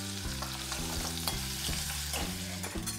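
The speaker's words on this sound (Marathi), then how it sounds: "आपण ह्याच्यात आता 2 टेबलस्पून कांदे घालणार आहोत." Chopped onions sizzling in hot oil in a pan for okra masala gravy, a steady close frying hiss with a few stirring scrapes, continuous throughout, with a low background hum and no talking.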